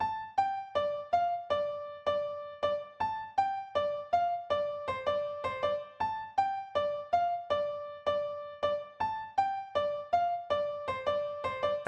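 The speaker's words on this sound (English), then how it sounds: "I used the same Afro Cuban upright piano and I came up with this very simple piano" An Afro-Cuban style upright piano plays a simple, repeating melody of evenly spaced single notes, steady and moderately soft, alone with no voices.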